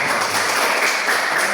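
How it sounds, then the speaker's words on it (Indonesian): Short burst of classroom applause from a group of schoolchildren, a steady dense patter of clapping that fills the whole moment without a break. "Bagus, tepuk tangan."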